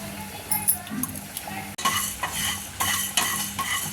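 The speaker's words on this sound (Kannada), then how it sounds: "ಈಗ ಎಲ್ಲ ಮಸಾಲೆ ಐಟಮ್ಸು ಹಾಗೆ ಒಣಕಾಯಿ ತುರಿ ಎಲ್ಲವನ್ನು ಸಹ ನಾವು ಫ್ರೈ ಮಾಡ್ತಾ ಇದ್ದೀವಿ" Masala spices and grated dry coconut fry in a pan while a spoon stirs and scrapes, clinking now and then against the metal, with a low sizzle and some background talk.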